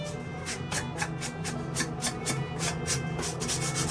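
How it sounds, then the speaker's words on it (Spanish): Rapid, rhythmic rubbing strokes of a fine 220-grit sanding sponge on a wooden wine box, a soft scratchy back-and-forth repeated steadily at close range. "voy a lijar con una lija 220 suave, y en este caso con una esponja, para suavizar las maderas"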